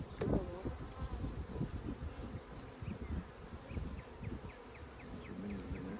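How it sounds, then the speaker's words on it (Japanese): Honey bees from a mail-order package colony buzz steadily around a wooden queen cage during a hive inspection, a dense close hum with a few high wingbeat chirps rising above it. "女王蜂の入った木箱の周りには働き蜂がいます"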